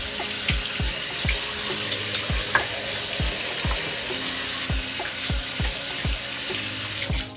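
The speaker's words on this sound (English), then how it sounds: "So I'm just gonna wash my hands real quick." Tap water runs steadily into a sink while hands are washed under it, a loud continuous splashing stream with regular soft knocks and no voices.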